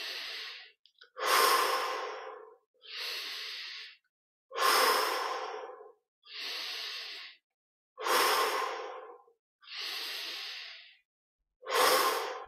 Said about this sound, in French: Encore 7 respirations.